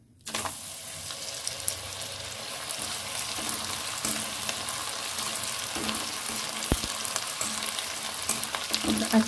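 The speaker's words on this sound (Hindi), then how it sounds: "अच्छे से इसको फ्राई कीजिए।" Poha chips frying in hot oil give a continuous bubbling sizzle, dense and steady, with a few faint clinks of a utensil, close by and with no voices.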